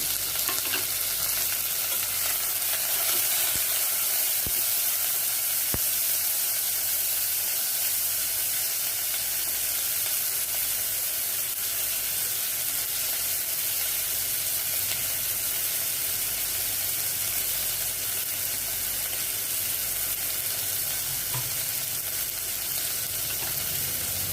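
Onions sizzle in hot oil in a pan, a loud, dense, unbroken hiss that runs on steadily, with faint stirring scrapes underneath.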